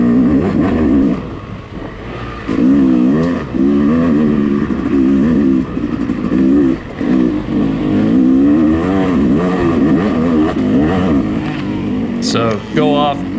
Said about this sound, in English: just lugging the two-stroke